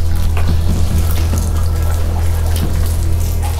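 Water runs steadily in an abandoned psychiatric hospital corridor, Zofiówka, making a close, continuous watery wash over a low hum, with no voices.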